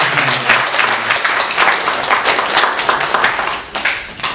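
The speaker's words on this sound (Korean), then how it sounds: "같이 박수로 축하드리겠습니다." Steady congregation applause during a Korean church Sunday service, a dense even clatter of many hands clapping that holds for several seconds before thinning slightly at the end.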